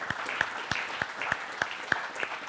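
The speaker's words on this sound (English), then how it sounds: "Let's give our guests a round of applause" An audience applauds guests at the close of an MIT AeroAstro talk with an Apollo 15 astronaut, a brief burst of steady clapping from a room of people.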